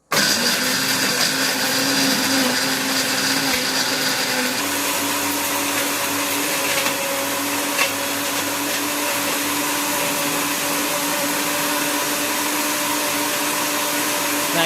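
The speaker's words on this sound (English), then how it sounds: "Now you're gonna have to let this blend for a while." A Hamilton blender on its smoothie icy drink setting blends an oatmeal chocolate chip shake, a loud steady motor whir running without a break from start to finish, with no talking.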